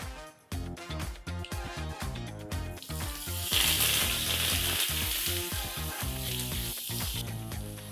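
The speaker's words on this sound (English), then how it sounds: "Add a pinch of hing and add a teaspoon of mustard seeds and let it splutter." Mustard seeds and a pinch of hing spluttering in 3 to 4 tablespoons of hot coconut oil for a Karwari tadka, a steady close crackling sizzle with dense popping that grows busier midway, heard alone with no talk.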